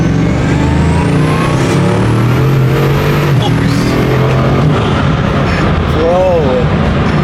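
A Ferrari SF90 hybrid accelerates hard, the engine note rising in pitch through gears with a loud interior roar, while people talk excitedly over it.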